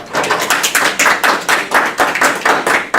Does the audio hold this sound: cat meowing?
no